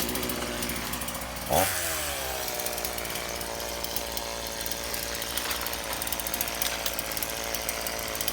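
A chainsaw cutting bamboo roars loudly and continuously, with a sharp burst near the start as it bites in, then a steady high buzzing drone.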